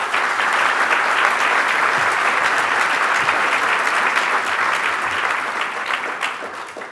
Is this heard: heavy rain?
no